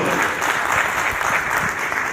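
An audience at a Hindi and Urdu comedy show at Kamani Auditorium claps in loud, dense applause that carries steadily throughout, close and full with no talk.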